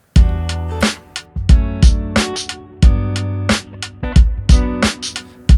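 Guitar chord sequence looped on an Octatrack, running through a minor 6 into a major 7: loud, close strummed chords in a steady repeating rhythm with crisp percussive attacks, no talking.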